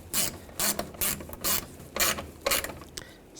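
A hand ratchet tightens a screw on a parking assist sensor of a 2014-2018 GMC Sierra 1500, giving six or seven bursts of rapid pawl clicking, close and fairly loud, with short pauses between strokes and no talk.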